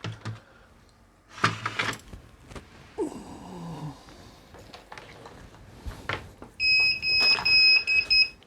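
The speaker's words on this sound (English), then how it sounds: "There we go, there's the beeps." A Hikvision DS-7208HGHI digital video recorder with a newly connected hard drive gives a few short, high electronic beeps near the end, following earlier scattered clicks and handling noises.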